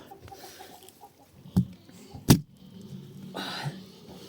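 Faint clucking and fowl noises from a rooster nearby, with a couple of sharp knocks and a rustling burst in the background.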